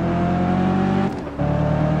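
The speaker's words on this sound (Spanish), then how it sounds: "Ahora suena como, no sé, un coche normal." Steady car engine drone from the video game Test Drive Unlimited 2, a loud constant hum that briefly dips and then resumes at an even pitch.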